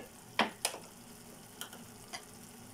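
Spices are added to a frying vegetable curry of eggplant, capsicum, tomato and coconut masala, giving a few sharp scraping stirs and clinks over a faint, quiet sizzle.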